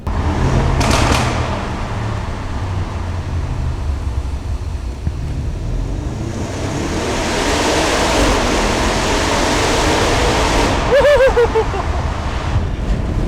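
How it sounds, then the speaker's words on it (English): A 2014 Audi RS7 with a twin-turbo engine under hard acceleration, heard as a loud, steady roar with wind and road rush that swells over about thirteen seconds. "I'm going to hammer down the accelerator"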